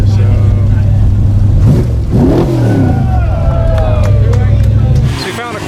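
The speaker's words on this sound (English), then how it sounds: "Cars are revving and others are parked up" Cars revving on the streets around Le Mans: a loud, close engine drone climbs through several sweeping revs over a crowd babble, then drops away sharply near the end.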